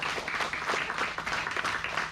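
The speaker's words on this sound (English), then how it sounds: "big round of applause for Lindsay" Audience applause for Lindsay at a film Q&A at a small analog media venue, a soft, steady patter of clapping hands heard from a moderate distance.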